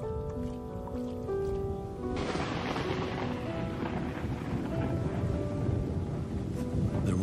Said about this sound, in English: Rainstorm brings healing and relief to the land and the lions.